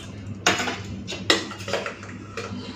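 Curry is served onto a plate of rice with a few separate metal clinks and scrapes of a spoon against the dish, spaced out over a quiet room.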